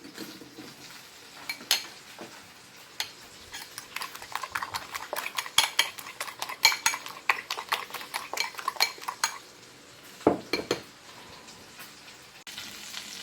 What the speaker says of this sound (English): You hear that cooking?